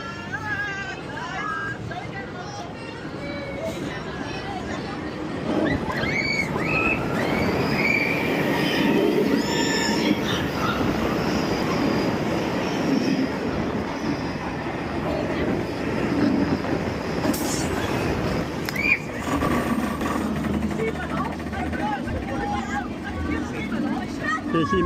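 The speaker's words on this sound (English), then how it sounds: "the 5th fastest coaster is Nemesis Inferno, hitting the top speed of 50 miles an hour" Nemesis Inferno, a roller coaster at Thorpe Park reaching 50 mph, roars continuously with rumbling track noise, wheel squeals and rushing wind throughout the ride, with riders' voices mixed in.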